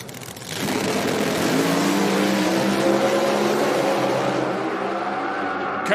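An IHRA Pro Mod drag race car roars through a pass at a drag strip in Milan, Michigan. The engine is loud and sustained, its pitch sweeping upward, and it holds full volume for several seconds before it begins to fade.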